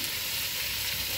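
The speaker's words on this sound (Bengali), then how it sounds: "দেখছেন টমেটো আর কাঁচা লঙ্কা দেওয়া হচ্ছে" Tomatoes and green chilies hit hot oil in a pan of frying barramundi, giving a steady, close sizzle that holds evenly throughout with no talk.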